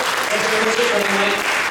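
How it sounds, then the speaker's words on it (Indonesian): Church congregation clapping and applauding at a worship service, a dense steady wash of hands throughout with faint voices and singing tones underneath. "Dengan tepuk tangan buat Tuhan."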